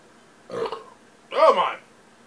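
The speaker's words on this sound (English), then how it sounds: "It burps well." Two loud, close burps, a short one followed by a longer, deeper one, let out after drinking a strawberry hard cider, with silence between them.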